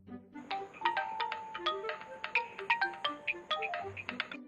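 A phone rings in an animated Indonesian comedy with a melodic electronic ringtone, a bouncing sequence of bright tones repeating steadily and fairly quietly, with no voices over it.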